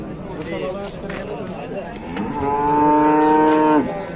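A cow moos at a livestock market, one long, loud, steady call rising over busy crowd chatter and nearby voices.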